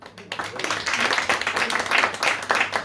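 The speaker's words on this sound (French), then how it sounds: "Je vous demande d'applaudir aussi, Ginny." An audience at a literary gathering applauds an author with dense, continuous clapping that rises quickly and stays loud and close throughout.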